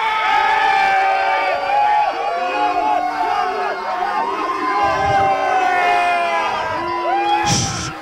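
An indoor crowd at a desk chair race event cheers and whoops loudly throughout, with overlapping shouts and chatter.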